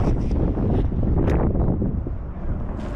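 Steady wind roars and buffets the microphone at a creek during smallmouth bass fishing, a loud continuous low rumble with gusty swells throughout and no voices.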